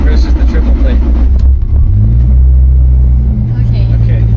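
A Toyota Supra with an aggressive triple-plate clutch revs while in neutral, its engine rising into a loud, steady drone after a rough start, with people talking nearby.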